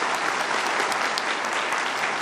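Audience at a university event honouring IAS toppers breaks into steady, dense applause, many hands clapping together at close range for a couple of seconds with no pauses.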